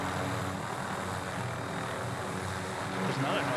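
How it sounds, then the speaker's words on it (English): Helicopter flying overhead in a multiplayer shooter video game, a steady distant rotor and engine drone filling the background throughout, fairly quiet, with faint game sounds and a brief swell near the end. "There's another helicopter too"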